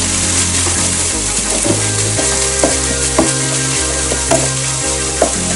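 Thyme is stirred through minced meat frying in a pan for shepherd's pie: loud, close sizzling with repeated scraping and clacking strokes of the spoon at an irregular rhythm.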